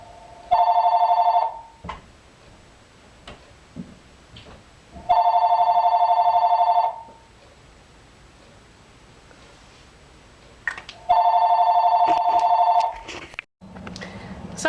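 A telephone bell rings in three separate loud bursts, each lasting about two seconds with quiet gaps between them, heard indoors during a makeup session with faint background noise.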